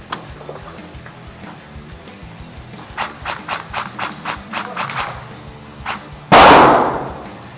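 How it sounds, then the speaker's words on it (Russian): Airsoft grenade going off outdoors during a game: a sudden loud, close blast near the end follows a string of sharp rhythmic cracks and pops, with no talk. "Граната!"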